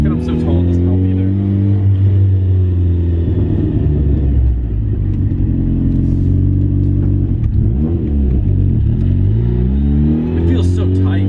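Mazda Miata engine revving while driving, a loud mid-pitched drone that climbs and falls through gear changes, heard from inside the car with people talking over it.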